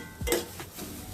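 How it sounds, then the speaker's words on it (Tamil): Tomato masala for egg curry is stirred in a pan, giving a soft scrape and a couple of light utensil knocks against the metal over a faint sizzle, all brief and quiet. "இன்னும் கொஞ்சம் லைட்டாக வதக்கிங்க"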